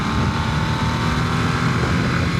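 A 2022 Harley-Davidson Nightster accelerates gently on a small busy road, its engine a loud, steady rumble heard up close from the rider's position.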